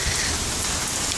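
Heavy rain pours down during a thunderstorm in McKinney, a loud, dense, unbroken hiss of drops hitting surfaces close by.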